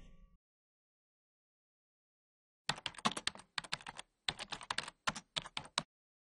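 Computer keyboard typing in several quick bursts of crisp, close keystrokes separated by short pauses, after a brief silence.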